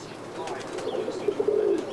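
Roller pigeons cooing near a breeder's loft: soft low coos rising toward the end, with faint chirps and a brief flutter of wings, close and fairly quiet.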